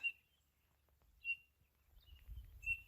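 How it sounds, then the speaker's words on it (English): Birds sing in a quiet juniper forest in the Mt. Charleston Wilderness of Nevada, with a few thin, high chirps spaced apart over faint low rumble. "The birds are singing."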